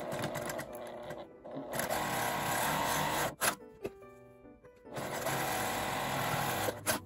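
A sewing machine stitches a fabric food storage bag with handles, running in steady mechanical bursts with a short pause and a longer quieter break midway before resuming, close and clear with no voices.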